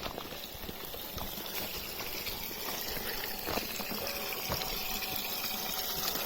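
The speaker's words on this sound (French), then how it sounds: "Et ben on va faire le plein d'eau." Steady broadband rush of water pouring into a tank, continuous and fairly faint, with a constant gushing hiss and scattered small splashes and no talking.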